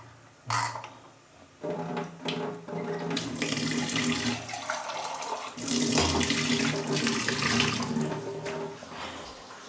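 Water runs and splashes steadily into a cooking pot of curry for several seconds, a continuous close pouring sound with a few brief knocks, no voices.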